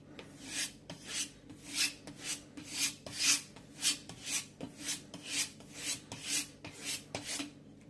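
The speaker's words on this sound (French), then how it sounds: "vous allez venir faire frotter votre morphile sur votre cuir" A knife blade is stropped on a leather strop to remove the burr, making rhythmic rasping strokes, about a dozen evenly paced swipes, close and fairly quiet, with no talking.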